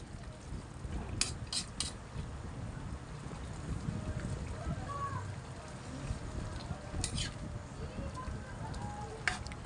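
A ladle scraping and cutting through softened food in a cooking pot, giving scattered metallic clinks and scrapes over a steady simmering hiss, fairly close and moderately quiet.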